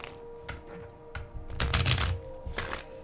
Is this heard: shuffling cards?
yes